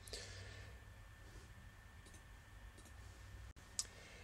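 A few faint, sharp mouse clicks spaced apart over a quiet background hum, with one slightly louder click near the end.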